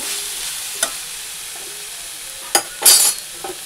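Cabbage and potatoes stir-fried in a pan give a faint background sizzle, broken by a few short, louder scraping and frying bursts near the end.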